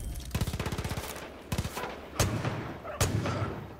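Far Cry 5 gunfire: a quick automatic burst, then a few separate sharp shots spaced apart, fairly loud over quiet background noise.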